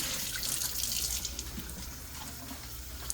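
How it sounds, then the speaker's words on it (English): Running water from a tap rinses soda ash out of tie-dyed fabric in a sink, a steady broadband splashing hiss with small shifts as the cloth is moved, no voices. "I want to make sure that all of the soda ash is rinsed out"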